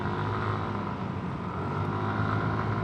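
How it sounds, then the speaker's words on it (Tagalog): A continuous engine drone with wind and road noise, steady and unbroken as if heard while riding, moderately loud with no voices. "Mismong tunog ng makina lang natin."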